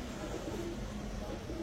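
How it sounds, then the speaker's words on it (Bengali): A female racer pigeon gives soft, low cooing that stays faint and steady against a quiet background murmur. "সবজি রেসার একটা মাদি কবুতর"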